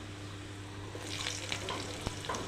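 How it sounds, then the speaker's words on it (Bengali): Potatoes fry in a pan with a soft, steady sizzle over a low background hum, a few light stirring scrapes and one sharp clack near the end, fairly quiet and without talk. "তো আলুটি ভালো করে ভাজবো লাল লাল করে।"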